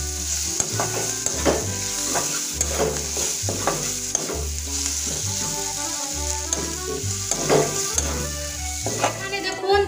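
Chicken masala being stirred in a pan after garam masala paste and coriander leaves go in, with a steady sizzle under repeated scraping strokes of a spoon in a regular rhythm, close and fairly loud, no talking.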